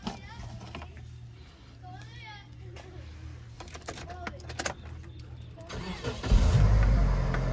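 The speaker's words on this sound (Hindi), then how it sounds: "स्टार्टिंग आपको चेक करवाते हैं स्टार्ट करके।" An automatic Toyota Hiace TRH 214 GL Grand Cabin van sits quietly with someone talking nearby, then its engine cranks and fires up near the end into a loud, rumbling idle.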